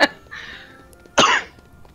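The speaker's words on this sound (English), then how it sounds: "this little cough I got." A single short cough from a man playing Kingdom Hearts 3, sharp and close, followed by a second harsher burst of coughing a moment later, with quiet gaps around them.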